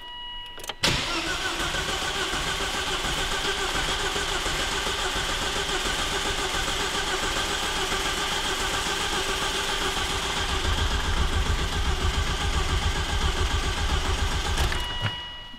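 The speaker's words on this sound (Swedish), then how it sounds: "men vi kan prova att starta." A Volvo S80 that will not start is cranked, with a steady, continuous mechanical churning lasting about fourteen seconds between a click at the start and one at the end, with no voices.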